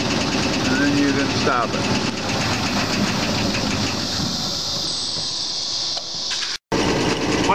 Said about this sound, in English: Run will start the shaker motor.